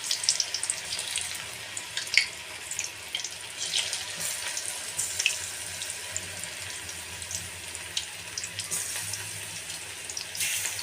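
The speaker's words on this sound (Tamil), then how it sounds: "எண்ணெயில் போட்டு பொரிச்சு எடுத்துக்கலாம்." Raw banana (vazhakai) slices frying in hot oil, giving a steady, close hiss and sizzle with fine crackling spread evenly throughout and no voices.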